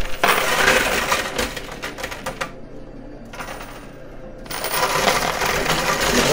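Coins and $1,000 casino chips tumble and clatter in a high-limit coin pusher machine, a dense metallic jingling that thins briefly in the middle, then surges again, loud and close.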